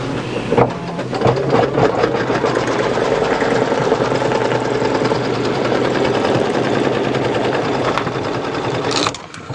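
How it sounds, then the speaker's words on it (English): An embroidery machine stitches the placement outline for a unicorn plush's hair tuft, a steady loud mechanical whirring and rapid needle rattle running continuously, then cutting off near the end. "Step 2, placement stitch for hair tuft."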